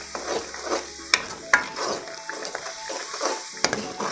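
Kashmiri red chili powder and turmeric roast in a pan while a spoon stirs in repeated scraping strokes over a gentle sizzle, with a few sharp metallic knocks against the pan.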